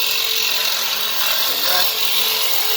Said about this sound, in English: Got some of it with a cutoff wheel.